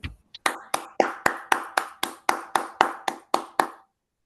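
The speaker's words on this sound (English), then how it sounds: "a round of applause" Small meeting audience gives a round of applause for the acting president at a Toastmasters gathering, heard as a sparse, evenly spaced series of about thirteen distinct claps, close and crisp, with no talk over them.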